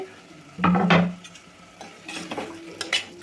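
Small cut potato pieces fry with tomatoes in a pan for an Andhra-style aloo curry, a metal spatula clanking and scraping against the pan over a low sizzle, close up and without talk.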